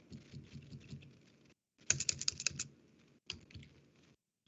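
Quick bursts of keystrokes on a computer keyboard as a command is typed, clicking in short clustered runs with brief pauses, close and fairly quiet.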